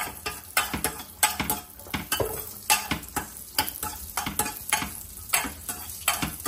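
Raisins frying briefly in a pan for semiya payasam, a close sizzle punctuated by regular sharp scraping ticks of a spoon stirring, repeating roughly every half second with no talking.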